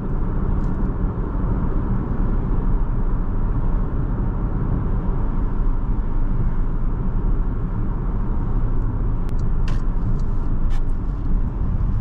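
A Porsche Panamera 4 sedan on the road gives a steady, loud cabin drone of engine and tyre rumble, continuous throughout with no talk.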